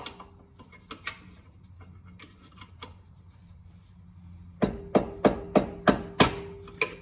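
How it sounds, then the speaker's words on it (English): A small screwdriver tapping a camber kit suspension part on an Infiniti G35 or Nissan 350Z, scattered sharp metallic taps at first, then a quick run of about seven louder, evenly spaced strikes. "Just take a little screwdriver, give it a little tap"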